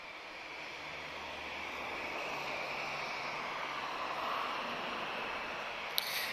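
An Azul airliner at Lisbon Airport gives a steady, broad jet roar at moderate distance, holding evenly throughout with no voices over it.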